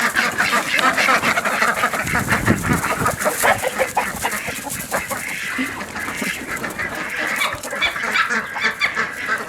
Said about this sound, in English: Did you hear the rooster?